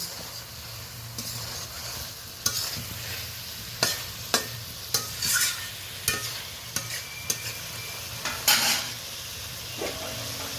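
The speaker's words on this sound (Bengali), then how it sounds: "আবার মশলার সাথে ভালো করে এটা নেড়ে নিচ্ছি।" Spoon stirring pointed gourd (potol) with spices in a frying pan, a steady sizzle of frying beneath scattered scraping clicks and taps that recur irregularly throughout.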